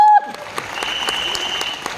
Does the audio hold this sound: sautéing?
no